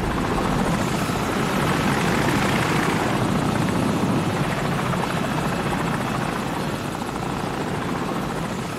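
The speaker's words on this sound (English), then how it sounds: "Enemy helicopter, get down!" An enemy helicopter in the Call of Duty video game roars overhead with a steady, loud rotor drone that holds for several seconds without pause.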